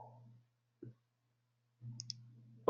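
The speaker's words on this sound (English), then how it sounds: "I was just typing" A few sparse key clicks from a computer keyboard during an online marketing meeting, brief and fairly close, over a steady low electrical hum with quiet gaps between them.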